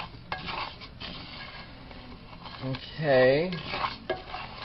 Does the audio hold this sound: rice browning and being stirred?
yes